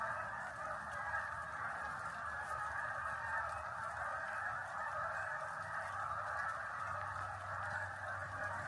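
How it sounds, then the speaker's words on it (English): A large flock of geese honks steadily overhead at George Washington Birthplace National Monument, a dense, continuous outdoor chorus of overlapping calls at moderate distance with no talking. "listen to all them geese"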